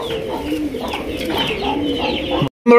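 Several pigeons at a large pigeon farm coo continuously, their low rolling calls overlapping, with a brief silence before the cooing resumes loudly near the end.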